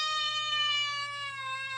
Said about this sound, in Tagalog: Agmimiyaw dagiti pusa